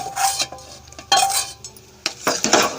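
Semolina, sugar, fried raisins and cashews stirred together in a metal pan for rava laddu, a spoon scraping and clinking against the vessel in several short bursts.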